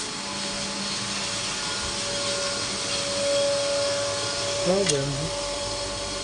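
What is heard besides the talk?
electric flour mill grinding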